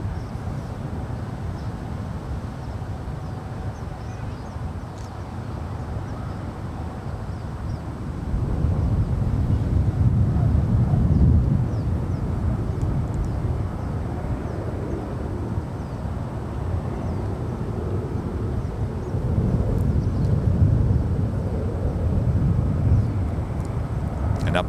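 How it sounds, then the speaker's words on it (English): A Turkish Airlines Boeing 787-9 Dreamliner rolls down the runway at San Francisco International, a broad low jet rumble swelling in two louder surges, with some talk in the background. "It's a 787-9 Dreamliner now rolling down"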